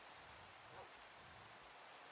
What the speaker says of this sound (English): the rain scared them away